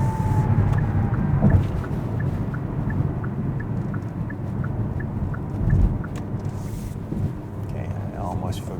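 A 2021 Hyundai Kona with a 1.6-liter turbo engine and 7-speed DCT drives at night. Heard from inside the cabin, a steady low engine and road rumble continues throughout, with a faint rhythmic ticking in the middle.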